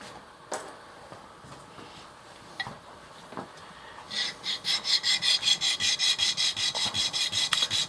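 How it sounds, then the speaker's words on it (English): A bone guitar nut is rubbed back and forth on 100 grit sandpaper over a flat tile, giving a rhythmic rasping scrape of about a dozen even close strokes after a few scattered taps. "A super flat tile with some 100 grit sandpaper on it."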